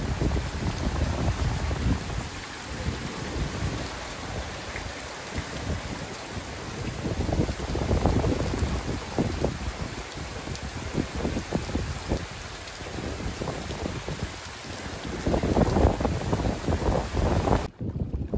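Heavy rain pours over the open sea around a fishing boat, a dense, steady hiss of drops with gusty wind buffeting the microphone throughout, loud and continuous with no voices.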